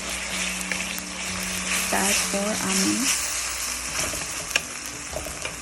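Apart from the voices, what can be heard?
ginger garlic paste frying with onions for chicken korma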